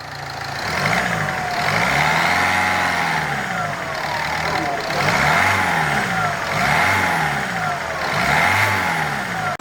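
A Ford Fiesta engine in a repair shop revs repeatedly, rising and falling in several loud, close surges over a steady running drone.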